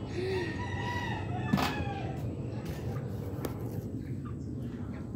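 A rooster crows once early on amid clucking chickens in a chicken coop, with a steady background of farmyard noise and a sharp knock partway through.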